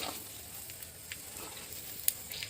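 Sliced onion frying in ghee in a pan for a Mangalore-style mutton sukka, a soft steady sizzle with faint crackles and one brief sharp click near the end.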